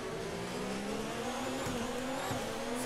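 A racing car at the Belgian circuit in a career-mode racing game roars continuously at high revs, its engine tone sliding and shifting with faint tire noise, loud and alone without talk.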